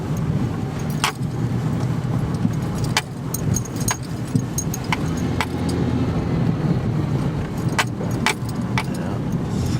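A car jolts along a badly rough road, its steady low engine and tire rumble punctuated by repeated sharp rattles and clanks from loose contents inside, loud and close throughout with no talking.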